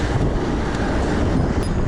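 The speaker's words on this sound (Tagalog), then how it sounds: "Sobrang lakas ng hangin." Strong wind buffets the microphone in a steady, loud roar throughout a bike ride on flat road near the Pililla windmills, with no speech.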